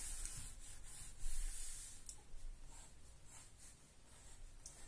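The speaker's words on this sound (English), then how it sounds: "I'm just going to stroke directional lines in." Coloured pencil strokes on paper make soft, rhythmic scratching rubs, repeated directional lines heard close and faint with no voices.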